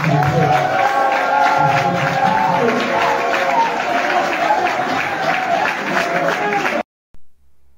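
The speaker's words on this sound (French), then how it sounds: "que je voudrais qu'on applaudisse une fois de plus." A crowd applauds at a political gathering in Cameroon, dense and sustained clapping with some cheering filling the room, loud and continuous for nearly seven seconds before cutting off abruptly.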